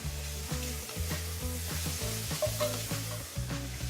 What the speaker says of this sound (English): so now I'll add my shallots